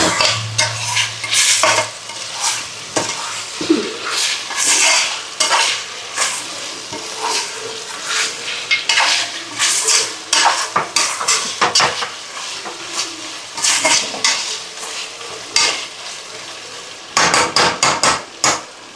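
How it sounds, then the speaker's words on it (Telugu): Chicken leg pieces frying in a pan for pulao, with a steady loud sizzle broken by frequent scraping and clanking of a metal spoon against the pan, continuous throughout with no talking. "ఇప్పుడు చికెన్ వేసుకున్నాం కదా, లెగ్ పీస్గా వేయించుకోవాలి బాగా"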